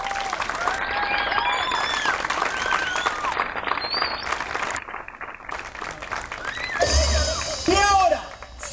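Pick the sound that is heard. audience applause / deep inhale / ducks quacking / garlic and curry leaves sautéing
audience applause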